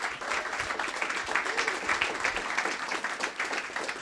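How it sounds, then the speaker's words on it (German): Indoor audience applause in a hall, a steady wash of many hands clapping at moderate volume, sustained for several seconds. "Vielleicht einen kleinen Applaus dafür."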